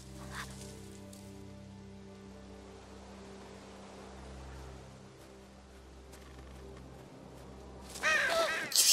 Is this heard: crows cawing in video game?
yes